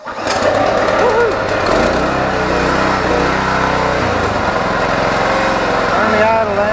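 A new small engine on an old garden tiller runs close and loud in a continuous buzzing drone, its pitch dropping slightly partway, with someone speaking over it.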